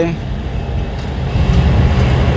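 A loaded dump truck reverses on a dirt site, its heavy engine droning low and steady at close range and growing slightly louder toward the end.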